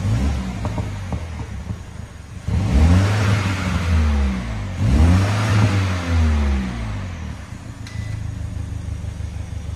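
Stock-exhaust BMW M135i F40 starting up, then revving twice in sharp, loud rises and falls over a steady idle rumble, heard close with no talking.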